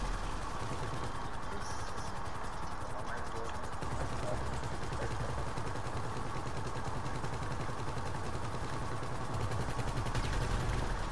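Rapid, dense video-game gunfire crackles continuously in a shooter match, close and loud throughout with no breaks.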